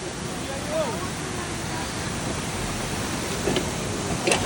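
A river at Ulu Sepat rushes in a steady, broadband wash close by, with faint voices briefly over it.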